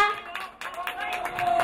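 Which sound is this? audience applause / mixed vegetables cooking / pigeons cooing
audience applause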